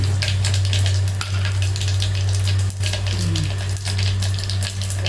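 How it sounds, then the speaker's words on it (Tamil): Cumin seeds and asafoetida fry in hot oil, a continuous loud sizzle over a steady low electrical hum, with a few brief dips and faint clinks. "சீரகம் எல்லாம் போட்டேன் பெருங்காயம் போட்டோம் பொரியட்டும்"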